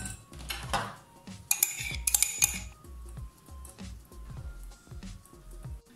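Egg yolks are mixed into whipped egg whites in a bowl for a sponge cake batter, with repeated close clinks and scrapes of a utensil against the bowl and a few sharper metallic taps.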